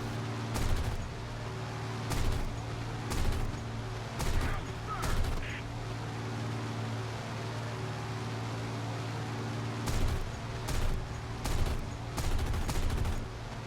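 In the War Thunder flight game, a P-39Q Airacobra's cannon and .50 caliber machine guns fire in short loud bursts, several early and several more later, over a constant engine drone with no speech.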